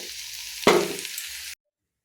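Onions hit hot oil in a pan with a sudden loud sizzle, followed by a fading crackle and a brief stir before cutting to silence.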